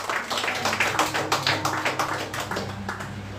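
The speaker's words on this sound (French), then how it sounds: "Applaudissez Jésus." Congregation clapping in a church service, a rhythmic, fairly loud unison beat of hands at an even pulse, close and continuous with low room hum beneath.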